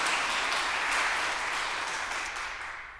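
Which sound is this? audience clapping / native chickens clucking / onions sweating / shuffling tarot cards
audience clapping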